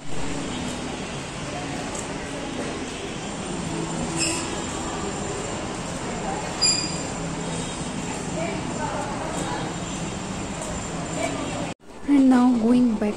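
A passenger train rolling along the rails, giving a steady rumbling drone with faint squealing and clanks, closing with a brief cut and louder nearby noise.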